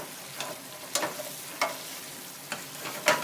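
Sausage and peppers warm in olive oil in a pan with a steady soft sizzle, broken by a few brief stirring scrapes, close and fairly quiet.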